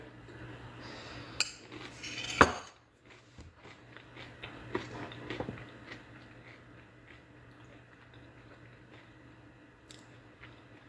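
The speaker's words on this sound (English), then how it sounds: "I'm almost done with my snack, so the chewing will end soon." Someone finishing a snack while hosting online office hours about mealworm farming, with soft irregular crunches, clinks and mouth noises close to the microphone over a low steady hum.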